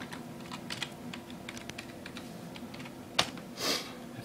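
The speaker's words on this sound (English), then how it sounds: "I'm typing my password." Fingers tap out a password on a computer keyboard, a quiet run of light irregular clicks close by, ending in a couple of slightly heavier keystrokes.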